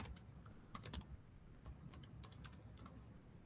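A username being typed on a computer keyboard: a quick, quiet run of light key clicks in small clusters, fairly close and with no talking.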